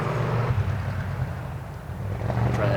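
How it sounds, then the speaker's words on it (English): Low, steady engine drone of motorcycles going by at a distance, swelling slightly toward the end, with no talking. "Motorcycles."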